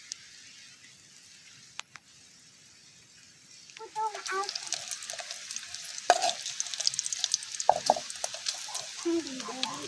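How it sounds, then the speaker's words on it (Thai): Pounded chili and garlic hit hot pork lard in a pan at an outdoor farm kitchen, starting quiet then breaking into a crackling sizzle with stirring scrapes and pops that continue steadily. "เอามักพริกกระเทียมที่เขาตำมา คั่วเลยเนาะมาทอดเลยนะพี่น้อง"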